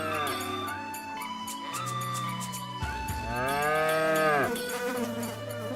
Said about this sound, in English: Why is the best sound effect in the game a fucking fly sound effect?